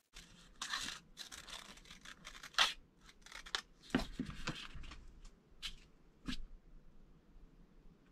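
Scissors snip through material in a run of short, uneven cuts as a circle is cut out for a homemade fluid bed built from PVC pipe. The cuts are close and clear, with rustling between them and quiet gaps, and no talking.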